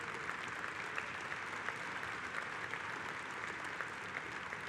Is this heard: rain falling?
no